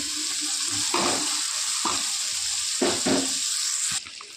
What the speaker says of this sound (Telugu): ఇప్పుడైతే జీలకర్ర, పసుపు పొడి, మిరప్పొడి, ధనియాల పొడి వేస్తున్నాను